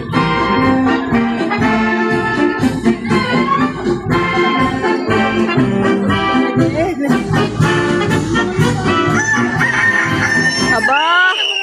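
Loud busy music at an Independence Day dance presentation with a rooster crowing amid it, the crowing blending into the dense, energetic sound.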